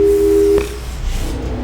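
A telephone busy tone in the Portal 2 video game sounds as a loud, steady electronic beep that cuts off abruptly partway through, leaving quiet background.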